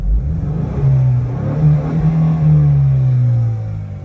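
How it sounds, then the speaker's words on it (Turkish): A 2024 Ford Mustang EcoBoost accelerating in track mode, its engine droning close and loud with a rising, steady tone that holds and wavers slightly before easing off near the end. "Ama şu anlık ben track modunu çok sevdim arkadaşlar. Bu şekilde gaz bastığınız zaman"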